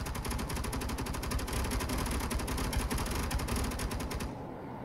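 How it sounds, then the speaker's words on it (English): Automatic turrets in Space Engineers fire nonstop, a dense rapid stream of mechanical gunfire shots that runs loud and steady for about four seconds, then cuts off abruptly into near silence. "Well, turrets are shooting at them"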